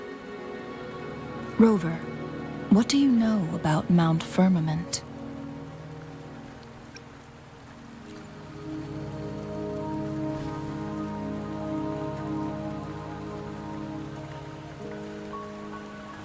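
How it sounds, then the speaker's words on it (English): Steady rain falling in the video game Wuthering Waves, a soft continuous hiss beneath character dialogue and melodic chimes, lasting throughout. "Don't worry, the rain won't last much longer."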